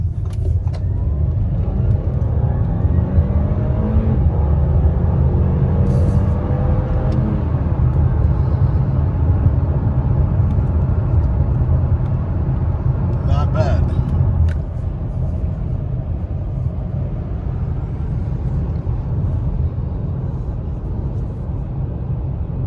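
A 2022 Audi A6 S-Line accelerates onto a highway, its steady engine and road rumble holding loud and constant from inside the cabin, with a person talking over it.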